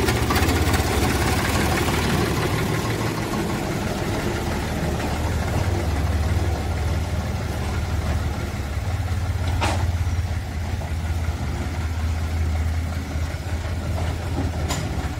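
A 1990 HMT 3511 two-cylinder tractor engine runs steadily with a loud, continuous low chugging rumble that stays near and constant, with no talk over it.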